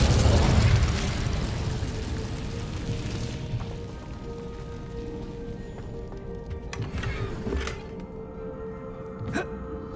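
Incendio fire spell cast in Hogwarts Legacy, a loud burst of roaring flame that swells at the start and then settles into a sustained crackling rumble, with a few sharp pops near the end.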